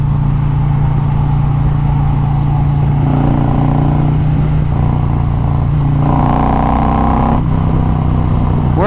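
A 2020 Harley-Davidson Road Glide Special fitted with a 128 big bore kit pulls onto a highway, its deep V-twin rumble loud and close, rising in pitch through several throttle surges.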